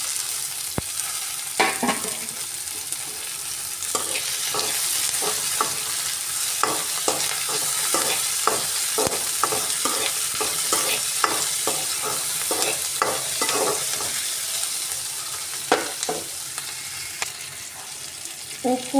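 Tomatoes frying in a pan for South Indian lemon rice give a steady, close sizzle, broken by a run of sharp scraping clicks as a spoon stirs them, with no talking.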